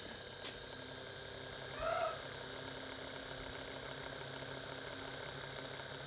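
A K&D Porter model locomotive's small electric motor runs on about 1.5 volts DC with a faint, steady hum and a thin tonal whine, broken once by a brief chirp.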